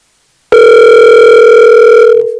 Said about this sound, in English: let me call him up right now